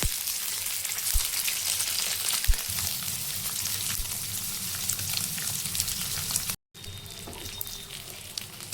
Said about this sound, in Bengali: এখন আমি এই ডিমের টুকরোগুলোকে তেলের মধ্যে একটা একটা করে ছেড়ে দেব আর ভেজে তুলে রেখে দেব